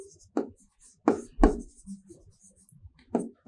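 Handwriting notes during a nutrition lesson: a few short pen-on-paper scratching strokes in separate bursts, close and quiet, with near silence between them.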